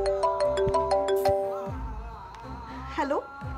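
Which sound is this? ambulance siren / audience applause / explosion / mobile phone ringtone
mobile phone ringtone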